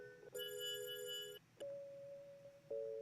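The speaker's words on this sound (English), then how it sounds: "That's the dreamy bells, yeah." Dreamy bell synth tones in a music production session ring out as sustained chiming notes, one pad fading and another bell tone starting, with no talking over them.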